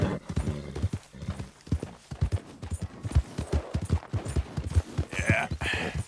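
Horse hooves clip-clopping in a rapid, steady rhythm in the Red Dead Redemption 2 video game, loud and close, with a brief whinny near the end and a little background noise.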